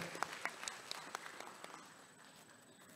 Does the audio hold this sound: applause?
yes